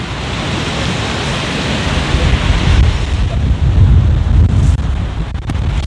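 Strong wind buffets the microphone at the beach at Caleta de Fuste, a loud, continuous roar with surging gusts and surf-like rushing, no voices.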